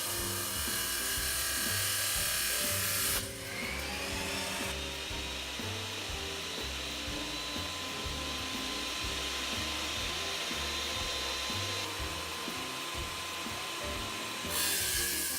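A wet tile saw rip-cuts stainless steel tile with a dull blade, giving a continuous harsh grinding whine under a low motor drone. The pitch shifts slightly partway through as the blade bites, steady and close.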